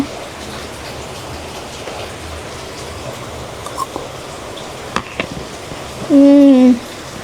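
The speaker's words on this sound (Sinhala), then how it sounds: "වැස්ස තාම අඩුුනේ නෑ. තාම වහිනවා." Steady rain falls in a constant hiss, with a few sharper drips and a short tonal sound near the end.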